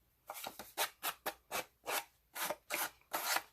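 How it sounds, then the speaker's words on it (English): A Dollar Tree sanding block rasps along the rough edges of a paper lace pocket card in short, quick strokes, about three per second, close and soft with no voices. "It just sands and smooths out the edges."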